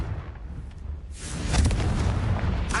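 A Confringo fire spell exploding in the video game Hogwarts Legacy, a rumbling blast that swells and lingers as a rolling boom, ending with a sharper crack.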